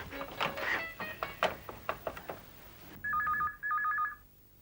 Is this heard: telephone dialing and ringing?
yes